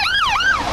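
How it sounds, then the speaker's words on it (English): An ambulance siren wails loudly and up close, its pitch sweeping up and down in smooth, continuous rises and falls. "The analogy is how you hear an ambulance siren,"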